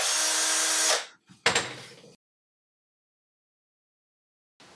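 An electric screwdriver whirs in a workshop in a loud burst of about a second. A short catch and a second brief burst follow, then silence.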